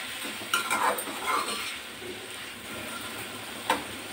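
Broad beans stirred in a hot pan give a low frying hiss with a few brief scraping strokes, close and steady over a few seconds with nobody talking.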